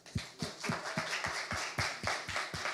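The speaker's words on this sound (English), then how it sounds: "let's get another round of applause" A small audience claps after a bilingual poetry reading, the sharp, evenly spaced beats of a few pairs of hands ringing close and clear over a quiet room.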